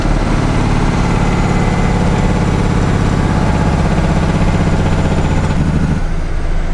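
A loaded 10-wheel dump truck's diesel engine runs steadily on six cylinders, a loud, continuous low rumble throughout that eases slightly near the end, with no talking over it.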